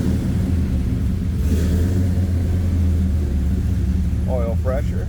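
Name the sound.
1970 Chevrolet Chevelle Malibu 355 engine running, cold idle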